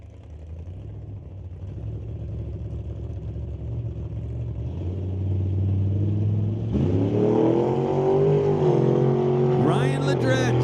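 A hot rod drag car at the Old Car Centre Hot Rod Race, a Nova, idles and then revs and accelerates hard, its engine swelling loud and close with rising pitch, over faint crowd noise.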